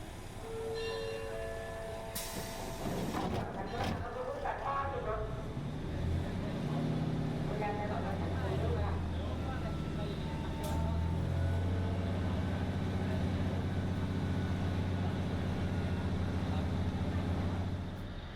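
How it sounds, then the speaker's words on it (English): Train on Bangkok's Eastern Line heading back to Hualamphong, with a steady low rumble and rolling hum throughout, a sharp bright burst near the start, and talk mixed in. "I am now catching this train back to Hulampong."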